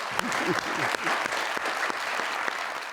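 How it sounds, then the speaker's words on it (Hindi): A studio audience at a comedy talk show claps steadily throughout, with a voice talking faintly over the applause. "आप बजा रहे हैं तालियां"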